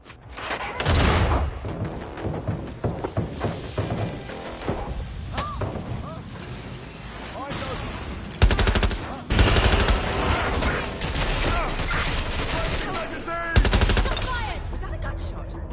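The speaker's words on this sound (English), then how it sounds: "Oh, that sounds like gunfire." Gunfire in the video game Watch Dogs Legion, with repeated loud bursts of automatic fire and single shots spread across the stretch, mixed with in-game voices talking.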